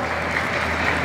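An audience at a dog breed demonstration at a ZooExpo show gives a short, steady burst of applause, a dense wash of many clapping hands.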